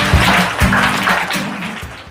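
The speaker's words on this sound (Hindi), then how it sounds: "चलिए जोरदार तालियां हो जाए इनके लिए भाई।" Studio audience at a Hindi quiz game show clapping for a contestant, a dense wash of applause with a few louder bursts and faint voices underneath, steady and moderately close.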